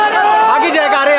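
Crowd of devotees chanting together in unison at Baidyanath Dham temple, a loud, dense, continuous mass of voices close by.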